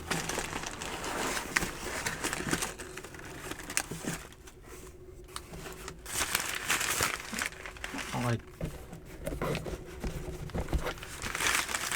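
A wrapped package is torn and unwrapped nearby, with crinkling plastic and paper rustles in irregular bursts while someone talks over it.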